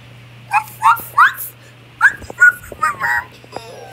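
A dog whimpers and yips in a series of short, high, whiny cries and a few barks at close range, with people speaking around it.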